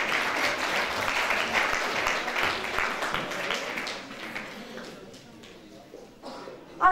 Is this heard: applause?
yes